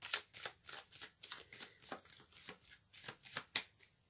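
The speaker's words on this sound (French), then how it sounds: "Je vais tirer une carte supplémentaire pour compléter cette énergie." Tarot deck being shuffled by hand in a steady run of about a dozen quick riffling bursts, close and fairly soft, with no voices.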